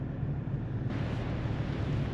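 Steady wind buffeting the microphone at Ledge Point, a broad, loud rushing roar that holds throughout with no voices.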